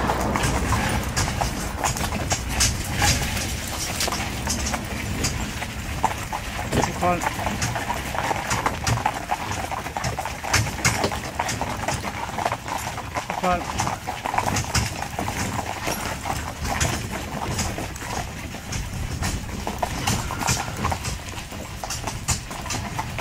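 Young horses in a driving pair or tandem trot steadily on a hard surface, giving a continuous, fairly close clip-clop rhythm while people talk over it.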